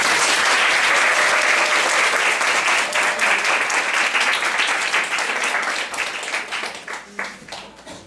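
An audience in a lecture hall applauding a guest lecturer, a dense, loud wash of clapping that holds steady and then thins into scattered claps as it fades.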